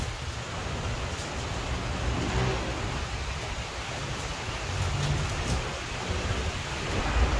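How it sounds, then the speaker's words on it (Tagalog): Heavy rain from a typhoon in Quezon City pours steadily in a dense hiss, with low rumbling underneath like distant thunder; no one speaks. "Maulan-ulan guys, bagyo ngayon eh."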